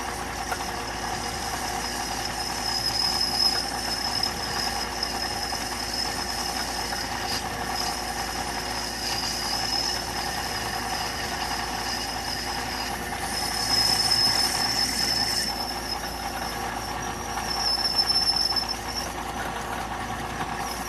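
A drill press machines a pulley, cutting with its tool under growing load, making a steady mechanical hum and faint high whine with slight surges in loudness, continuous and close, with no voices.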